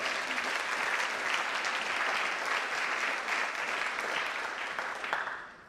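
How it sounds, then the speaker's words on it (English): A crowd applauds at a high school honors night awards ceremony, a sustained even wash of clapping from many hands that fades out near the end. "One more big round of applause."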